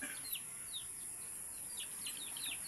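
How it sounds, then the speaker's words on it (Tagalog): A chicken gives short, faint, chirpy calls in small bursts, set against a steady high hiss of background noise. "manok."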